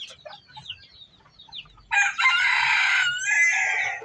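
A junglefowl rooster kept for breeding crows loudly and close by in one drawn-out call, preceded by soft clucks and chirps from other fowl.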